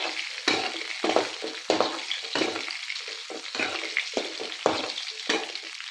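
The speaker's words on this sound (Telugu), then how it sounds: "1/2 స్పూన్ జీలకర్ర. వీటిని కూడా వీటిలో కలిసేలాగా వేయించుకోవాలి." Half a spoon of cumin seeds frying in a pan alongside coriander seeds, crackling and sizzling steadily with repeated scraping stirs in a regular rhythm, close and clear with no talk.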